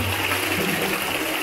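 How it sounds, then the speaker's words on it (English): A toilet flushing with the lid raised, a loud, steady rush of water pouring through the bowl for the whole moment, close by and with no talking. "We'll give it a good old-fashioned number 2 flush."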